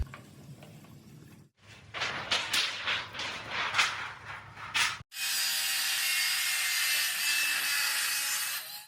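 Tin sheet being cut for a DIY airboat frame: a stretch of rhythmic rasping strokes, then a continuous loud hiss-like cutting sound close by.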